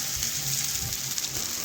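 Potatoes frying in a pan of hot oil while fish head with potatoes is being cooked, giving a steady soft sizzle with faint crackles throughout, no voices.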